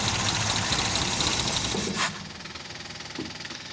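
A car engine fitted with a Weber carburetor runs steadily at idle, a dense mechanical hum that dips suddenly partway through and then settles into a quieter, pulsing idle.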